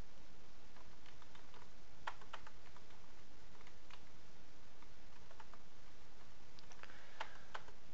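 Light plastic clicks from a computer keyboard while tab keys are pressed, scattered taps with a couple of sharper double strokes, close and quiet with no speech.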